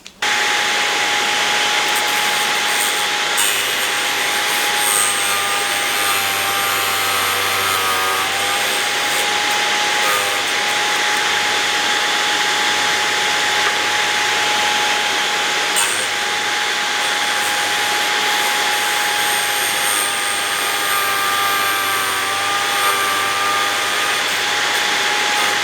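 A VEVOR drill sharpener grinds the back side of a drill bit. It makes a loud, continuous whining grind with a steady motor hum, unbroken for the whole stretch.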